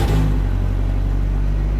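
A turbocharged Honda S2000-swapped Datsun 240Z, a carbon-clad time attack car, fires up with a sharp start and settles into a loud, steady rumbling idle up close, with no talking over it.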